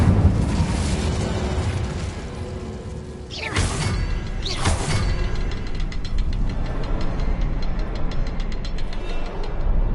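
Incendio fire spell blasts cast in Hogwarts Legacy on PS5, two sharp bursts a second apart over a dense, loud game soundscape with rumbling low end, followed by a faint sparkling, crackling tail.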